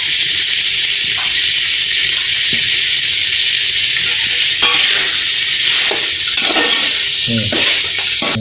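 Mutton chukka varuval cooks in a pan with masala, with steady loud sizzling and hiss as it is stirred, and scattered scraping strokes and clinks grow busier toward the end.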